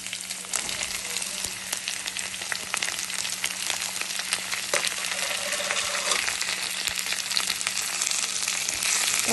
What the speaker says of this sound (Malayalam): ഇതിലേക്ക് നമ്മൾ അരിഞ്ഞു വെച്ചേക്കുന്ന ചെറിയുള്ളിയും കൂടി നമ്മൾ ഇട്ട് കൊടുക്കുന്നുണ്ട്.